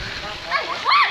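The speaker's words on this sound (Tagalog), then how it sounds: "Makikita niyo kumukulo yung tubig" Hot sulfur spring water boils and bubbles, giving short close splashing and gurgling bursts over a steady watery hiss.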